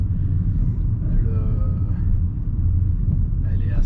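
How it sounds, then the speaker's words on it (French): A 2009 Renault Twingo 2 with the 1.2 L engine rolls along, giving a steady low road and tyre roar from inside the cabin, with faint higher tones drifting above the dense rumble. "j'entendais les roues, donc les bruits de roulement sont assez moyennement maîtrisés"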